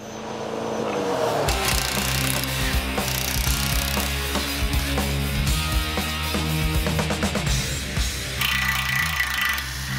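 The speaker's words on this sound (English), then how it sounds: "All I got to do is tighten this all up now, and we'll be ready to go on the front." A ratchet wrench tightens parts on a truck, giving a dense run of rapid metallic clicks and clanks, close and fairly loud, with no talking.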